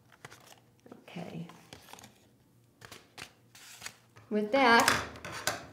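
Scissors snip through a paper plate, cutting small slits into butterfly wings, a few soft crisp cuts mixed with handling, while a person talks over it.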